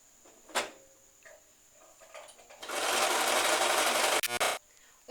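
A sewing machine runs a short zigzag stitch, starting with a few scattered clicks and handling sounds before a steady, loud mechanical whir of about two seconds, then stopping with a couple of knocks.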